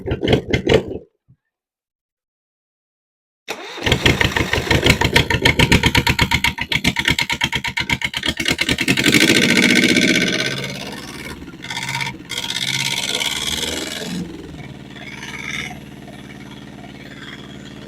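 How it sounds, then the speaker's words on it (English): A Yanmar 2GM marine diesel in a cold engine bay cranks, falls silent, then starts and settles into a loud, rapid knocking idle that revs up before easing back down. "I am pretty pleased with how well that engine started"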